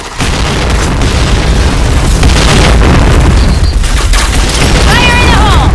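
A grenade blast in the shooter game PointBlank sounds as a loud, sustained boom and rumble, with gunfire and voice chatter layered over the dense game audio.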